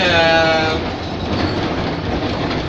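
A tram in Lviv rolls through a curve, its wheels squealing at first with a high ringing whine over a steady loud rumble that continues without talk.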